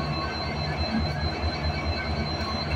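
Rameswaram Express passenger train in motion, a steady loud rumble with rhythmic wheel thumps on the rails and a faint high whine, heard from inside the carriage, no talking.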